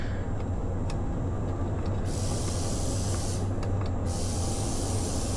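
Hand-pumped spray bottle misting the peat moss and corn cob bedding of a breeder worm bin in a steady hiss, with a brief gap near the middle, close and continuous.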